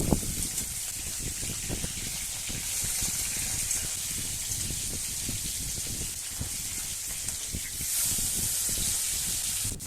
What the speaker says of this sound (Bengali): দুদিকে হালকা সোনালি রং ধরা পর্যন্ত ভেজে নিয়ে মাছকে নামিয়ে নিচ্ছি